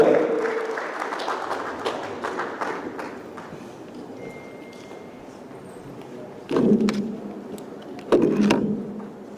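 A conference audience at a Nigerian youth event applauds, a dense wash of clapping that fades down over several seconds, followed by two short louder bursts of cheering voices.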